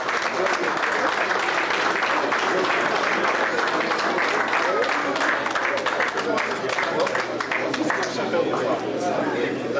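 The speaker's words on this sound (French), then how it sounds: "Applaudissements ensemble." Applause from an audience at a team trophy ceremony, steady and dense for the whole stretch, with crowd chatter mixed through the clapping.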